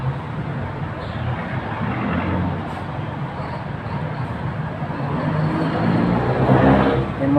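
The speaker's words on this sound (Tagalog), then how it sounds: "Grabe ang traffic dito sa Pasig." Heavy road traffic in Pasig, a continuous roar of engines and passing vehicles that swells gradually louder, heard from nearby without speech.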